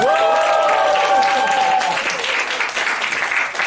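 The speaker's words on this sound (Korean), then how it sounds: "박수를 안 치신 분이 지금 한 3분 정도 계셔서 다시 한번 하겠습니다" A lecture audience at an author's talk on tidying and organizing breaks into loud, sustained applause, with a brief cheer or whoop at the start and voices blended into the clapping.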